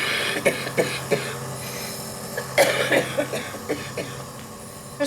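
A person with cystic fibrosis coughs repeatedly in short, wet bursts at an irregular pace over a steady low background hum.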